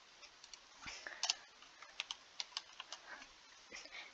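Typing on a computer keyboard, with quick, irregular clicks of keys close by, some brief pauses between bursts, and no talking.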